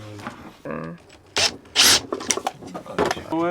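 Countersink bit cutting into a screw hole in wood while building a bird house, with rough rasping bursts of grinding between moments of people talking nearby.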